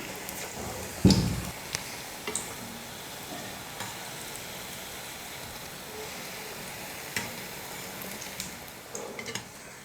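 Eggs dipped in gram-flour batter deep-fry in hot oil with a continuous soft sizzle and crackle, a brief louder splash or clatter near the start, and no talking.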